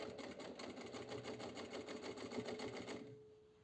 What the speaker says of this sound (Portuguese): Nessa costura eu não coloco retrocesso.